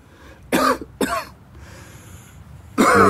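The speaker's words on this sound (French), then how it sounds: "Rico est pris d'une violente quinte de toux" Harsh, forceful coughs burst out close by, two in quick succession, a short pause, then another heavy cough.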